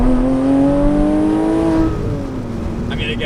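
Porsche Cayman S 987 with an aftermarket exhaust and an exhaust leak, its engine revving loud and close with a rising tone that then drops back toward idle.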